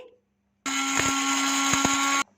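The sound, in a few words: electric grinder grinding white pepper and dried coriander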